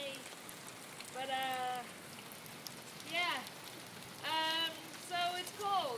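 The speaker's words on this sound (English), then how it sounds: "so it's cold and thunder and lightning and yay for rain" Rain falling steadily during a cold thunderstorm, a constant soft hiss heard outdoors, with voices talking over it at intervals.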